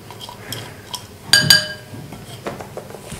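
Chopped green chillies, mint, cumin and garlic are tipped into a bowl, giving two bright, close clinks of utensil against the bowl amid soft taps and light scraping.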